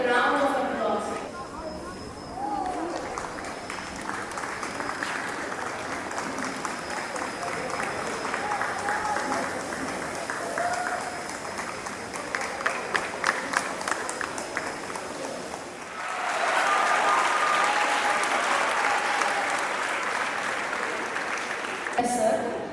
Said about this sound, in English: I request to welcome it with a round of applause.